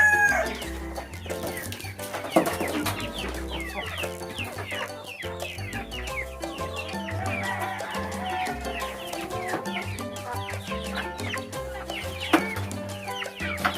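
Rhode Island Red hens and other chickens cluck and chatter close by in a coop, with repeated overlapping calls and occasional louder squawks over a low background hum.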